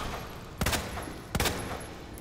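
Two sharp gunshots in Resident Evil 2 Remake, spaced under a second apart, loud against a quiet ambient background with no talking.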